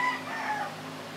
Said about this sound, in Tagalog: ang ingay ng background music ko, mga manok.